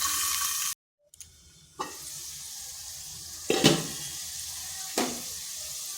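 Potatoes sizzle in a hot pan under a lid, a steady soft frying hiss broken by a short silence and then sharper bursts of crackling as the food is stirred.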